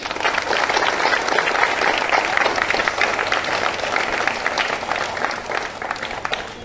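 Sustained applause from an audience at a school birthday celebration for Ishwar Chandra Vidyasagar: dense, steady clapping from many hands filling the whole stretch at an even level.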